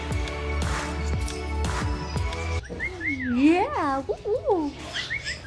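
A pet parrot whistles in rising and falling tonal swoops and short chirps, close and fairly loud, following a stretch of a woman's speech and a rhythmic background beat.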